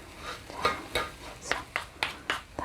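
Shrimp stirred briskly in a pan with the heat off, a utensil scraping and tapping the pan in a quick irregular series of light clinks and scrapes, close and moderately loud with no talk.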